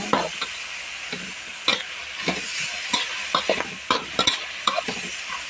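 Pork sizzles steadily in a hot pan while a utensil scrapes and clacks against it in irregular stirring strokes, close up.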